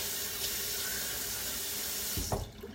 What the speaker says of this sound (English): And I'll turn the water off because I know the water is like an awful sound.